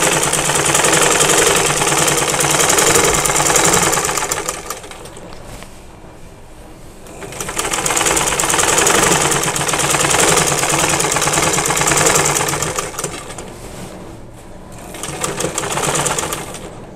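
An electric sewing machine stitches the side seam of a kameez in long rapid bursts of dense rattling chatter, pausing briefly between runs, close and loud with no talk over it.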